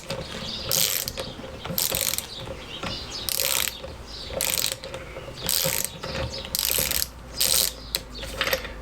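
Ratchet wrench clicking in repeated bursts while tightening front brake parts on a classic Fiat 500, close and loud, with short pauses between strokes and no talking.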